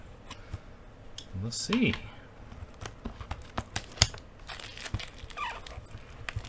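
Someone opens a box of Detective Conan trading cards, producing scattered cardboard clicks, taps and crinkly handling sounds at close range, with a brief spoken remark partway through.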